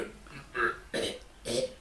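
A voice imitates a horrible coughing, burping belch coming from a grinder, three guttural croaking bursts in close succession, up close and alone.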